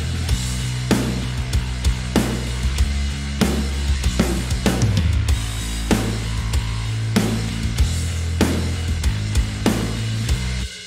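Drums and bass from a song cover mix play together at full loudness: a steady beat of sharp hits over a thick, shifting low bassline, with no voices.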